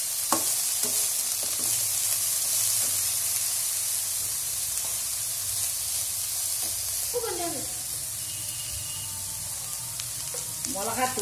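Ladies finger (okra) and carrot sautéing in a pan, a steady broad sizzle with occasional stirring scrapes and clinks running throughout, close and fairly loud.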